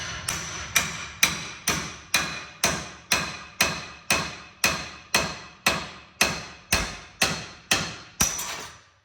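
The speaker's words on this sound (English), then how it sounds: "Get a hammer and we're going to just smash it in there." Hammer blows on the spindle of a 1988-91 Honda Civic EF suspension, about fifteen loud, sharp, evenly spaced metallic strikes with ringing decay, close up and alone.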